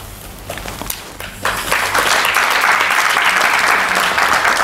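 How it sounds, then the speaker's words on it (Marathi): Scattered claps build into a sustained round of audience applause, dense and steady, filling the room. "त्यामुळे त्यांनी हळूहळू टाळ्या वाजवल्या"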